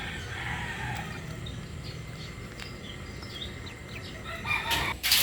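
A rooster crows in a farmyard among gamecocks, its call fairly distant and steady for several seconds over a constant background hiss, followed by a louder burst near the end.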